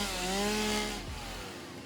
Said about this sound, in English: I'm going to use my chainsaw to selectively cut down